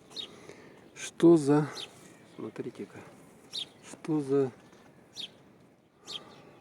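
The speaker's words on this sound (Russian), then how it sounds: "Вот у нас березки, птички поют." Small birds chirp among birch trees outdoors in Yakutsk, brief high tweets scattered through the clip while someone talks loudly close by.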